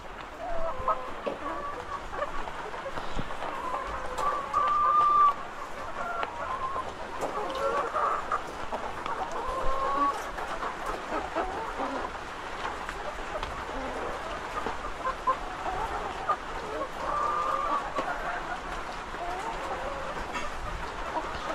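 Chickens cluck steadily throughout while eggs are collected on a farm, a dense, continuous flock chatter at moderate distance with occasional louder calls standing out.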